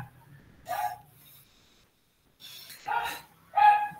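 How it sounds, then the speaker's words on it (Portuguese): A small dog named Pitoco, recovering from illness, gives three short, sharp barks in a quiet room, with pauses between them. "O cachorrinho aqui latindo."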